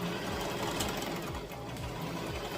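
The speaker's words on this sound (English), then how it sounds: "So backward stitch," Sewing machine backstitching on a tutu outfit, a steady fast mechanical whirring hum that runs continuously and loudly, close up with no speech.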